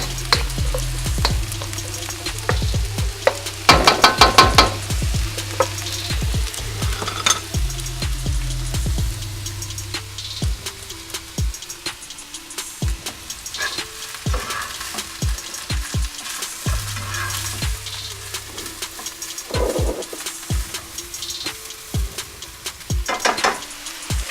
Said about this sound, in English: We're gonna give our veggies over here a toss, and look how fast they're already cooking down.